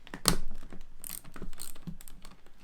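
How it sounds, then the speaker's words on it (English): A ratchet turning a bolt during a car fuse box and horn relay teardown, giving a short run of quiet, close, irregular mechanical clicks and ticks. "That's a nice ratchet, that."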